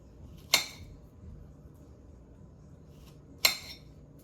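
A knife slicing a ripe plantain on a board, two separate sharp chopping clicks about three seconds apart against a quiet background.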